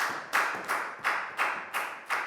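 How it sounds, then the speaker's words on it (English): A Year 4 maths class claps in a steady rhythm, about six sharp, evenly spaced bursts of clapping close by with no talk over them. "And a big round of applause for everybody doing a great job."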